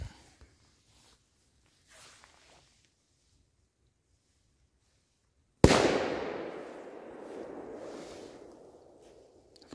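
A Romanian 1 December fireworks display begins with near silence and faint distant pops, then a single loud firecracker blast is followed by a long crackling, fizzing burst that slowly fades.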